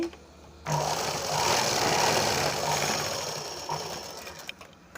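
Sewing machine stitching a lined blouse, its motor running in one steady, fairly loud continuous whir for most of the stretch after a quiet start, then slowing and stopping near the end.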